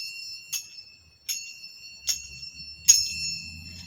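A ringing bell struck four times at roughly even intervals, each strike a bright metallic ring that fades quickly, with faint low sounds underneath toward the end.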